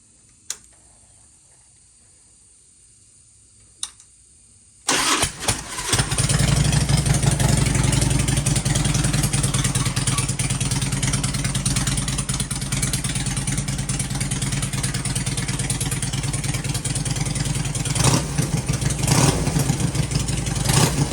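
A 2003 Harley-Davidson Electra Glide fitted with a Fullsac true dual exhaust sits in near silence before firing up abruptly. It settles into a loud, rumbling idle with occasional revs, heard close and alone.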